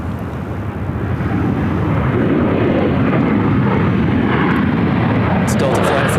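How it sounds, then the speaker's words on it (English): A Delta Boeing 737-900ER arriving from Salt Lake City at Phoenix Sky Harbor roars overhead, a loud, steady broadband rush of jet engine noise that swells and holds for several seconds. "It's Delta Flight 1451 coming in from Salt Lake City with 737-900 ER."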